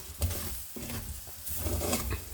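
Store-bought fish masala roasts in hot oil in a pan, a soft close sizzle with stirring scrapes and low thumps, quiet and without voices.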